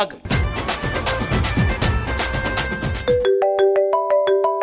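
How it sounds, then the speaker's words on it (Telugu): A phone ringtone plays loudly: a busy jingling melody first, then a run of clear, evenly spaced electronic beeping tones. "ఏదో ఫోన్ వస్తుంది"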